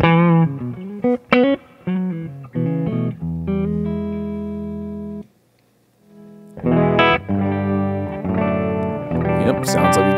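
A Gibson electric guitar plays through an amp with distortion and effects, sustained chords and picked notes ringing loud, broken by a short silent gap before the playing resumes.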